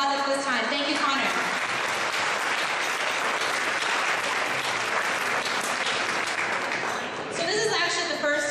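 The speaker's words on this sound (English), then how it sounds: "let's give him a big round of applause at this time" Sustained applause from an audience at a Jean Lumb Award reception in Toronto, honoring a young musician after his performance, a steady full wash of clapping with speech and voices emerging near the end.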